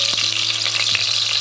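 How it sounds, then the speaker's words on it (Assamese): Potatoes frying in hot mustard oil in a kadai, a steady close sizzle with a few small clinks of stirring and no talking. "প্ৰথমতে মই আলু অলপমান ভাজি ল'ম।"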